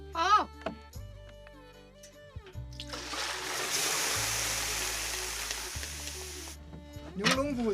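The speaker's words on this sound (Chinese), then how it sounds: "你放锅倒水" Water rushes steadily into a pot for about three seconds, to blanch beef spine bones at a pastoral Inner Mongolian grassland home, with voices and other sounds before and after.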